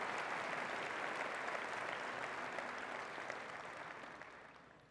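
An audience at a university commencement ceremony applauds, a dense, sustained clapping from a large crowd in a big hall that fades slightly toward the end.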